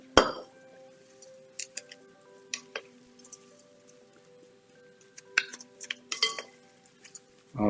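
Utensils clink and tick against a bowl as kale is tossed with vinaigrette, scattered light taps and scrapes over a quiet room.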